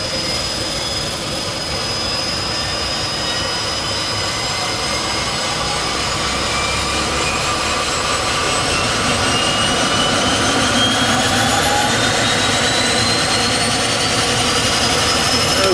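A Twin Otter turboprop engine spools up during start on a skydiving aircraft, a loud, steady roar with rising high-pitched whine tones climbing gradually over the whole span.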